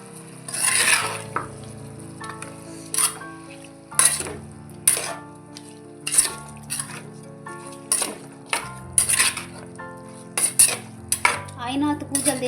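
Mutton is mixed with salt and turmeric in a metal pot for a puli munchi curry, with a spoon scraping and clinking against the pot in a steady run of close, repeated strokes.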